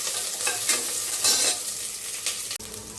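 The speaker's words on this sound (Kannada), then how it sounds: "ನಂತರ ಇದನ್ನು ಈರುಳ್ಳಿ ಸ್ವಲ್ಪ ಕೆಂಪು ಬಣ್ಣ ಬರೋವರೆಗೂ ಹುರ್ಕೋತಾ ಇದ್ದೀನಿ" Sliced onion frying in hot oil in a pan for jackfruit sambar, a loud, close sizzle with brisk scraping stirs, ending in a sudden short break.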